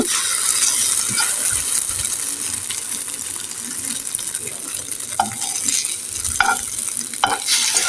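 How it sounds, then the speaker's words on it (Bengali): An egg fries in a pan of oil, giving off a steady, bright sizzle that runs the whole time, with a few sharp clicks and scrapes of a utensil against the pan. "ডিমটিও আমি ভেজে নিচ্ছি"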